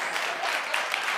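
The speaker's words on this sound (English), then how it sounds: "Go ahead and clap." Studio audience clapping at a daytime television talk show, a broad steady wash of applause filling the short moment with no speech over it.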